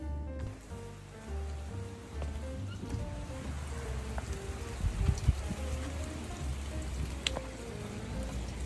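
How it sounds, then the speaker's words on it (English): Rain falls outside in a steady, faint patter of drops, close and continuous, with soft tonal sounds under it and no talking. "as you look at the rain"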